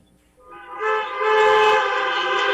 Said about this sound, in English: So how about a round of honks?